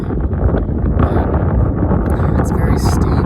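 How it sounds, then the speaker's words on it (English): Strong gusting wind buffets the microphone high on a steep mountain slope near Comanche Peak, a continuous low roar with rustling bursts, while a person talks briefly over it. "It's quite windy up here, as you can probably hear."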